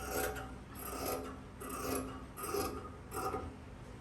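Scissors cutting kurti fabric at the armhole, soft rasping snips repeating about every half second, faint and close with no talk.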